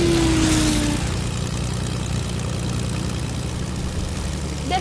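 Airplane engine in the Fortnite video game, a loud, steady droning hum that holds without a break, with no talking.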